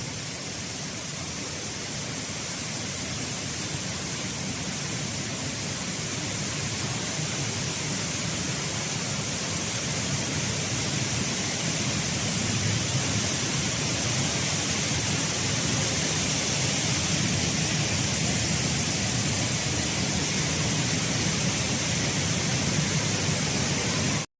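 Indoor waterfall at Jewel Changi, Singapore: a steady, even roar of falling water, close and unbroken for over twenty seconds, with no voices.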